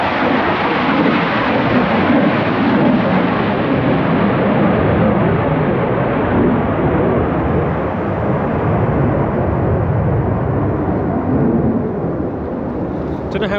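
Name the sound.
low-flying aircraft roaring overhead in Lake District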